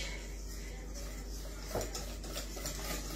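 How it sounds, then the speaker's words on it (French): A homemade fajita sauce is stirred in a pan, giving a soft, continuous scraping and swishing with a faint clink partway through, set against a steady background hiss. "Allez, on remue."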